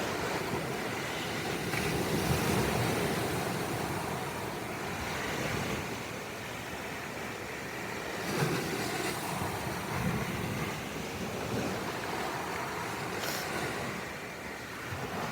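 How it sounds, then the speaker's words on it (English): Continuous roar of waves washing and breaking on a rocky shore, with swells rising and falling over the steady wash. No voices. "I'll just squat down so we can watch a couple of waves from here"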